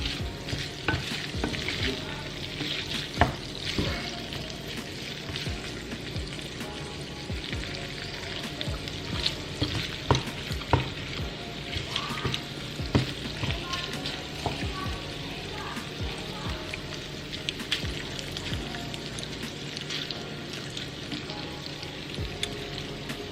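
Meat sizzling in a pan for loaded BBQ baked potatoes, a continuous crackling fry with frequent clattering stirs and scrapes running throughout, close and fairly loud.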